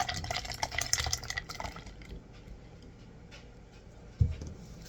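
Batana and herb hair oil is poured into a container, giving a soft trickling, gurgling liquid sound during the first two seconds. Quiet follows, then a single dull knock near the end.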